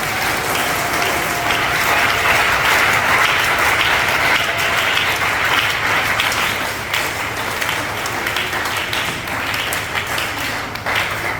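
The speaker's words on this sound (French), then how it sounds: "Nous acclamons très fort pour Jésus." A church audience applauds and cheers for Jesus during a broadcast, with dense, sustained clapping that stays loud and steady throughout and eases only slightly toward the end.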